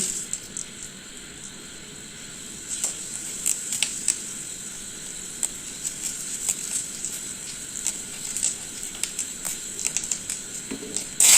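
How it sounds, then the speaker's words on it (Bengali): Dried chili, whole cumin, bay leaf and whole garam masala sizzle in hot oil in a kadai for a veg khichdi, with a steady crackling hiss and scattered sharp pops, close and continuous. "কড়াইতে তেল গরম হলে আমরা প্রথমে শুকনো লঙ্কা, গোটা জিরে, তেজপাতা, গোটা গরম মশলা তেলের মধ্যে দিয়ে দেব"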